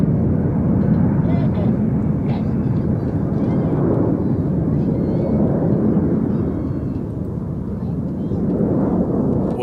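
Red Arrows display jets fly an airshow heart manoeuvre trailing red, white and blue smoke, producing a continuous loud, rumbling roar heard under a commentator's running talk.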